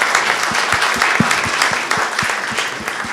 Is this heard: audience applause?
yes